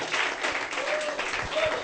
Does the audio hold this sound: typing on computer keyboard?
no